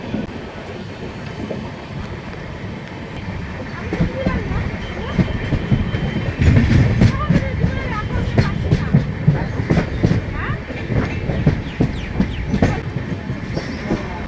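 The Saraighat Express runs at speed along the rails, a loud continuous rumble with rhythmic clickety-clack and rattling carriages. Voices talk faintly underneath.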